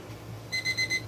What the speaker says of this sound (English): our 10-minute timer went off